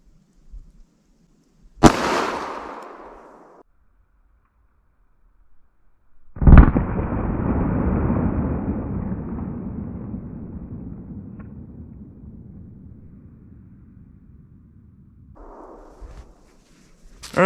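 A single loud, sharp gunshot from a .44 Special firing a Buffalo Bore Barnes TAC-XP round, ringing out into a long decaying echo, after a brief earlier bang.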